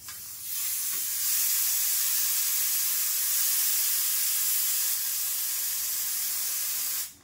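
Refrigerant gas bleeding from the pipes of a relocated 1.5 HP Samsung split-type air conditioner, a loud steady hiss that starts abruptly, holds for about seven seconds, and then cuts off.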